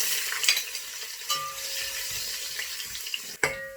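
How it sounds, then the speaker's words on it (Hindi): Fennel seeds hit hot ghee in a pot while cooking zarda sweet rice, giving a soft crackling sizzle with light stirring and a few sharp clinks of a utensil against the pan. "अब हमारा घी गर्म हो चुका है, अब इसमें हम सौंफ ऐड करते हैं।"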